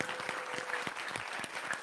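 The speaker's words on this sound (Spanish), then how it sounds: "le damos ahora sí, un fuerte aplauso al profesor Manuel Otón" A lecture audience applauds Professor Manuel Otón after his talk, with brisk, moderately dense clapping from a small crowd and a faint steady tone beneath it.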